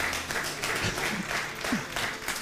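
A church congregation applauds during a pastor's sermon, moderate clapping from a crowd at mid distance, steady throughout with faint voices mixed in.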